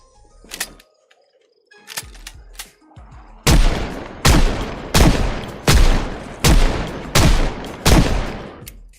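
Gunfire in the video game Project Zomboid: a few quiet clicks and taps, then seven loud, evenly spaced shots, each with a short ringing decay, close and unaccompanied by talk.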